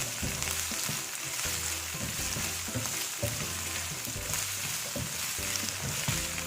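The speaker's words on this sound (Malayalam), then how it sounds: "നന്നായിട്ടൊന്ന് സോട്ട് ചെയ്യാം." Green chillies and capsicum sizzle in a pan for chicken curry, a loud continuous frying hiss broken by rhythmic scraping and stirring strokes, with no voices.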